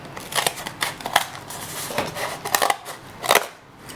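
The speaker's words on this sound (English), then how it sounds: "So if you just keep trimming it," Scissors trimming a crocheted piece, a close series of quick soft snips at an uneven rhythm, fairly quiet, with no talking.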